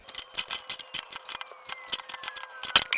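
Tape wraps around an air hose adapter on a sandblaster cabinet setup, a close run of quick, crackly tearing and stretching bursts in an uneven rhythm with a faint rising squeak, no talk.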